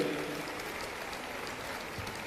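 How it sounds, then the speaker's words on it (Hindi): Applause from an audience at a large public event in Delhi, a send-off for elderly pilgrims leaving on a pilgrimage, steady and fairly faint, a dense wash of hand claps lasting throughout. "आप भी एक बार जोरदार तालियों से इस भव्य आयोजन के लिए तालियां बजाएं।"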